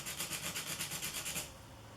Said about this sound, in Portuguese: o lápis aqui na lixa. E aí a gente vai fazer um chanfro.